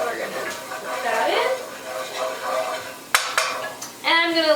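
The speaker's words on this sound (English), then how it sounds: "You really want to hear that sizzle" Ingredients for chicken soup sizzle in a hot pan, a moderate hiss under stirring and clattering of a utensil against the pan, with a sharp clack near the end and a brief voice at the close.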